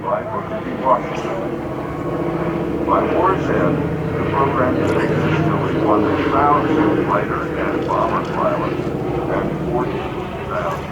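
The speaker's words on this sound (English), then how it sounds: "That is one of the few remaining B-17 Flying Fortresses that's flyable." A B-17 Flying Fortress, a World War II bomber, drones overhead with a steady, rough propeller roar that persists throughout while a person talks over it.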